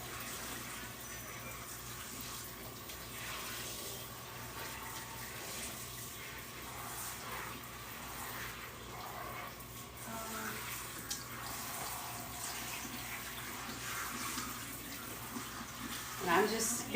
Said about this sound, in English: I'm just going to keep rinsing this a little bit because it is still running a little bit blue